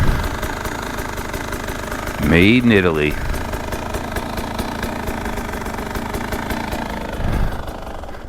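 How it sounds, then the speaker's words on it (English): A 300cc two-stroke dirt bike engine idles steadily with a fast, even putter and a brief rev in the middle; a voice speaks over it. "Listen to that engine."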